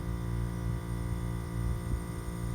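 A steady low hum with a faint throbbing pulse as air fills a Peterbilt 359 truck's air suspension bag and it rises, continuous and fairly close with no voices.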